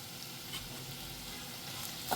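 Fresh coriander leaves sizzle gently as they are sautéed in an onion and tomato mixture in a pan, a quiet, continuous frying hiss with light stirring, close and without talk.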